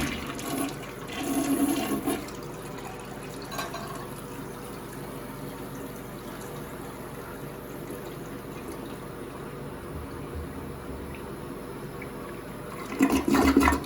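A household toilet flushes with a gurgling rush of water, then settles into a long, quiet hiss as the tank refills, before a final louder surge of water near the end.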